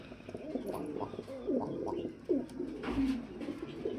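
A pair of Iceber Dhamasi pigeons, a male and a female, coo in soft repeated rolling calls at close range inside a pigeon loft, several rounds overlapping with light background noise.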